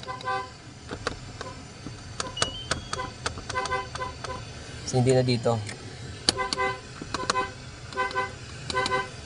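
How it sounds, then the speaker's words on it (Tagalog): A car horn honks in a series of short toots, some close together and one longer blast, amid background noise, with someone talking between them. "So, busina natin."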